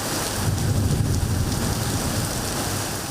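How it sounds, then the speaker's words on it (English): Heavy rain pours over Hong Kong during a thunderstorm with rainstorm warnings in force, a dense steady roar of downpour and wind with a low rumble beneath, and no voices. "heavy rain pours across the city, with the amber rainstorm warning signal and the red rainstorm warning signal and the thunderstorm warning now in force"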